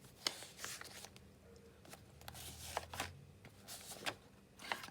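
A pile of paper journal signature pages shuffled and rustled by hand, with soft papery swishes and crinkles coming in irregular bursts, close and fairly quiet.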